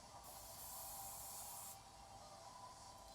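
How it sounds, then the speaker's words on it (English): Hairspray hisses from a can onto hair styled into a beehive in one continuous burst of about a second and a half. It is close and quiet, with no talk. "So I'm going to spray"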